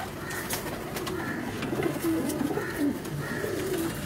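Pigeons coo in low, throaty, rolling calls that rise and fall steadily over a constant background hum, with no talking.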